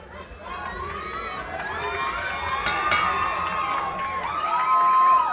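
A crowd at a fight night venue at the Doubletree cheers and whistles, building steadily louder through the clip, with shouts and whoops rising over a continuous roar.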